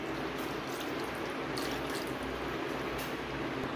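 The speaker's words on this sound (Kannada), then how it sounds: "ಈಗ ಜಾರಿಗೆ ಸ್ವಲ್ಪ ನೀರು ಹಾಕಿಕೊಳ್ತಿದ್ದೇನೆ" Water is poured into a mixer jar while cooking chicken gravy, making a continuous, even splashing hiss that stays steady and fairly soft throughout.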